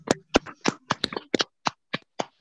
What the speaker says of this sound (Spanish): quisiera pedirle al auditorio que pidamos al doctor Carlos Siberio con un aplauso